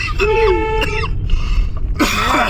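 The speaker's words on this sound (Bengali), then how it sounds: "কাশি শুরু করে দিয়েছে" A person coughs and clears their throat loudly and close by, in a few sharp bursts separated by brief pauses, with some noise in the background.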